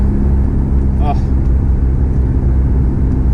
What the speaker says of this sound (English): It feels so good to have this car back out and like running, making more power, sounding more like a proper rotary